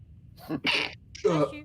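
A single sharp sneeze sounds up close, preceded by a brief intake of breath.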